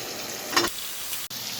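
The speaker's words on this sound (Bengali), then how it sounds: "এখন আমি আলুটা দিয়ে দিচ্ছি" Potatoes tipped into fried spice paste in a pan for an egg and potato curry, setting off a short hiss of sizzling, then a lower frying crackle and a single sharp tick.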